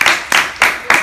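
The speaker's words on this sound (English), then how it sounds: "Let's clap it up for Elvira." Audience applause bursts out for a guest at a live talk event, loud and close, surging in several quick swells over about a second.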